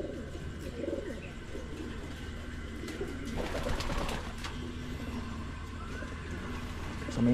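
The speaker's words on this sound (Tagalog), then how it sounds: "So may mga pinagugulang pa tayo ditong mga ano, young birds na naandito na rin." Young pigeons coo in a breeding loft. Soft, low cooing calls sound nearby over steady background noise, with a few faint chirps and no clear speech.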